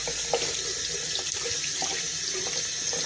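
Warm water runs steadily from a tap into a sink, filling it to wash a hank of handspun yarn; a continuous, even splashing stream, close and alone with no talking.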